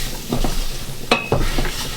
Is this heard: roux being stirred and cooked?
yes